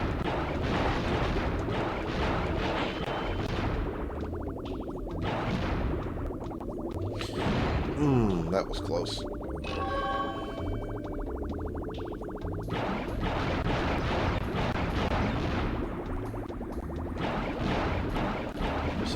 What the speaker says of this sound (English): For some reason they made this torpedo, the torpedoes a bit too loud